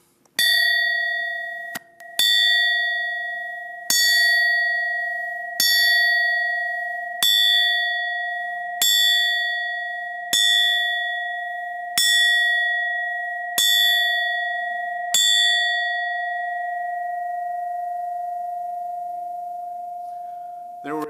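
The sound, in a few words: ringing bell made by veterans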